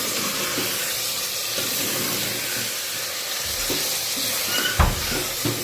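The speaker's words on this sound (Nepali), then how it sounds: "अनि त्यसपछि कटहर राख्छु। राखेपछि चलाइदिनु पऱ्यो।" Jackfruit curry cooks in a pan with a continuous sizzling hiss, broken by a few soft scraping stirs and a louder knock of the spoon near the end.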